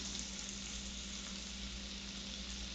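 White shrimp fry in a hot skillet, giving a steady, loud, continuous sizzle that holds evenly throughout with no talking.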